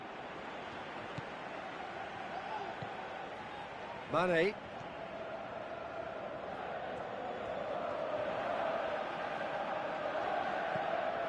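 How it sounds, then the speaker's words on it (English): Simulated stadium crowd in a PS4 football video game, Liverpool match, a steady roaring chant that swells louder toward the end, running under a commentator's voice. "Crowd calling for him to shoot."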